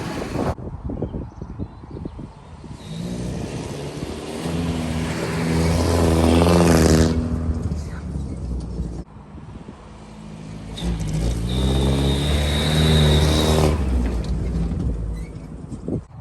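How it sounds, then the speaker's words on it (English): A Wartburg 311 car with a two-stroke engine cranks and fires, then revs in two long rising-and-falling bursts, loud and close, with a brief dip between them. "now we'll see if this Wartburg 311 will start"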